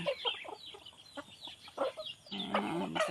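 Farmyard chickens cluck and chirp in a busy, overlapping stream while young chicks scuffle among them; the calls are fairly faint and stay at a moderate distance, thickening into a denser burst near the end.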